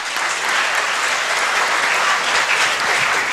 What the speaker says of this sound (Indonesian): Kita berikan tepuk tangan untuk Pak Rektor.